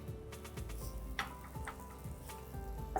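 Masala paratha frying on a hot tawa griddle, a soft, steady sizzle with faint ticking and crackling, close and continuous without talk.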